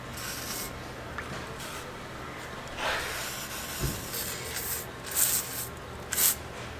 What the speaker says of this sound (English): One thing we are going to do is just hit all the moving parts, hinge points with some penetrating oil, WD-40